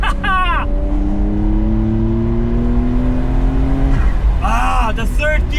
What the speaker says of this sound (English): Oh, do you hear those turbos?